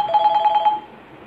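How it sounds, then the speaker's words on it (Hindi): A telephone rings with a rapid electronic trill, a loud pulsing burst of about half a second that stops abruptly, leaving quiet room tone. "एक मिनट, मैं पेशेंट का फोन लेता हूँ।"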